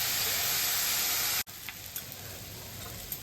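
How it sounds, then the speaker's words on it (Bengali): Rice frying in a kadai, a loud dense sizzle that cuts out abruptly for a moment, then resumes more softly with scraping stir sounds and small pops. "এই দেখো বন্ধুরা, সুন্দর ভাজা হচ্ছে, একদম কড়াইয়ের সাথে এখন লেগে যাচ্ছে।"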